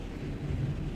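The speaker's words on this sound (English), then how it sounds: "You're hearing that? That's the thunder." Loud thunder from a storm rumbles low and steadily in the background, a deep continuous roll with no other sounds.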